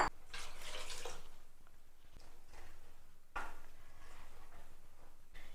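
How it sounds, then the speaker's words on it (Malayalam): Water poured into a Kerala-style dried shrimp and raw mango curry gives a steady rushing splash in two long pours, with a short break and a brief burst at the end. No one speaks. "കറിക്ക് ആവശ്യത്തിനുള്ള വെള്ളം ഒഴിക്കാം"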